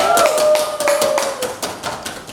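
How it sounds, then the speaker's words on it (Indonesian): An audience claps at a talk show, giving brief, scattered applause with sharp, irregular hand claps under a faint voice. "Tepuk tangannya dulu mana?"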